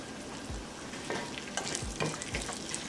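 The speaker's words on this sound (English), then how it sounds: "I'll just saute this for less than 20 seconds" Bay leaf, green cardamoms, cloves and cumin seeds sauté in oil over a medium flame, giving a steady soft sizzle with a few low thuds and light scraping stirs, close and moderate, no voices.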